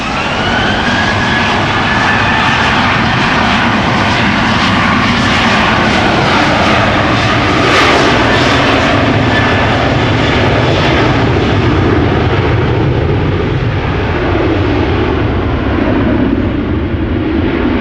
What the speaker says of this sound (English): Flight 1167, outbound Helsinki, Finland, 737-800, 23 years old